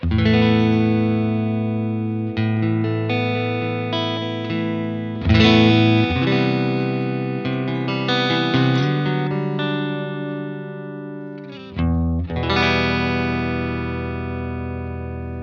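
A clean electric guitar through a UAFX Dream '65 Reverb amp modelling pedal, no reverb or tremolo, rings out chords and picked notes with sustained tones, played steadily for several phrases with brief pauses between strums.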